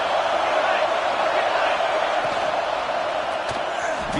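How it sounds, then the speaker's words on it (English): Stadium crowd in College Football 26 roaring as a constant, loud, dense wall of noise, unbroken for the whole stretch with no clear individual voices. "Listen to the crowd energy here in the early going."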